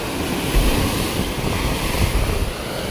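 Steady rush of sea waves breaking and washing in on the Konkan coast, with broad roaring noise and wind buffeting the microphone throughout.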